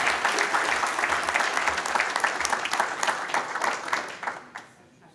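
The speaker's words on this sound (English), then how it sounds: "Big round of applause to Rick Jackson and his company, ADS, for th" Audience applause at a National Small Business Week awards ceremony for a finalist company, a strong wash of clapping from a large room that thins and fades out over the final second, with faint voices mixed in.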